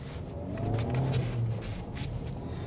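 A Volkswagen Tiguan 1.6 TDI diesel accelerates briefly on a road, a moderate engine rumble with rising drone and some road noise, heard from inside the cabin.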